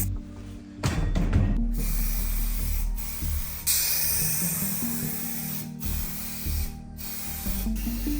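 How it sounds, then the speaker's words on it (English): Primer is sprayed onto the parts of a disassembled springs motor machine in several short aerosol bursts, close and hissing, each separated by a brief pause. "We apply an initial primer coat."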